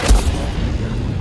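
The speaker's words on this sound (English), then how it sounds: "What if I can, like, freeze their blaster fire?" Blaster fire in the Star Wars Jedi Fallen Order video game: a sharp, booming shot right at the start, followed by a dense, rumbling wash of combat noise for the rest of the moment.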